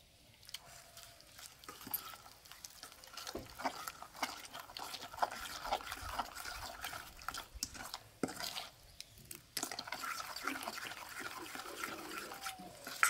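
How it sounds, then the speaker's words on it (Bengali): Water trickles and splashes as a little is poured into a thick rice and semolina batter, with soft stirring and liquid sloshing, faint and close, continuing steadily throughout. "এবার অল্প একটু জল দেব।"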